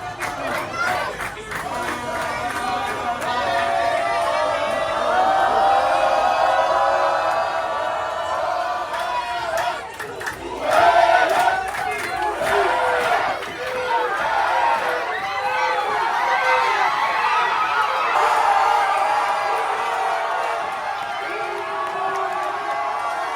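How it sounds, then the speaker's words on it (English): Crowds in the streets of Marrakesh celebrate Morocco's World Cup win over Canada, a dense, continuous roar of cheering, shouting and chanting close by, with a brief louder surge partway through and voices mixed throughout. "I could start to hear the crowds cheering for the Moroccan team"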